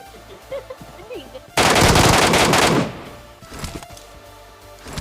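A burst of rapid gunfire from an MK rifle in PUBG, a loud rattling volley lasting just over a second, surrounded by quieter game ambience.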